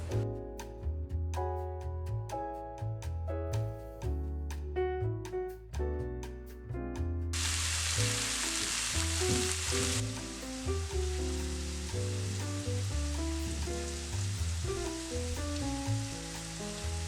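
Seasoned alligator fillets drop into a pot of hot oil, a broad steady sizzle swelling and roaring on under loud background music that plays throughout.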